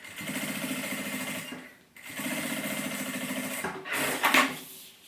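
Sewing machine stitching synthetic fabric for a pouch lining, running in a fast rhythmic whir with a brief pause near the two-second mark, then resuming before a short burst of handling noise at the end.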